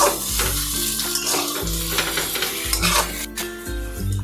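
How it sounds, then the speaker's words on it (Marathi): Fried bitter gourd being sautéed and stirred in a pan, a constant loud sizzle with regular scraping strokes of a spoon against the metal, close by and with no voices. "कारले घालून घेऊयात परतून घेऊयात छान असे पूर्ण एकजीव करूयात"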